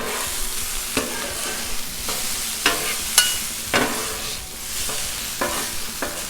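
Hash browns frying on a Blackstone griddle, a steady close sizzle with several sharp metal spatula scrapes and taps as they are flipped, no voices.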